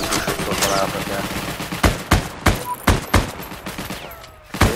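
Gunfire in the online WWII shooter Heroes and Generals: a run of sharp shots, single cracks and short bursts spaced irregularly, loud and close over a steady background of game ambience.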